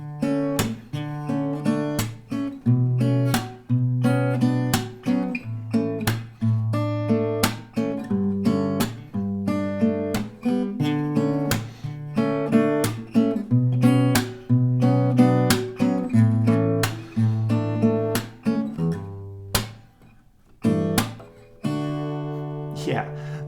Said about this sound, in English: once you manage the melody and the strumming, then you can build in the notes into the strumming, and it could sound something like this.